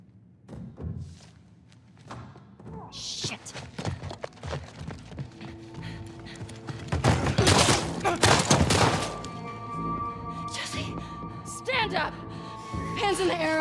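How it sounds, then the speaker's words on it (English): Gunfire in The Last of Us Part 2 comes as several mid-distance shots and thuds among footsteps and scuffling, under frequent voices talking over the action. "In the air, I shoot this one too."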